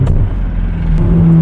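A Ferrari F430 fitted with an iPE exhaust revs loudly up close, its engine note rising into a sharp, climbing tone during a brief burst of acceleration.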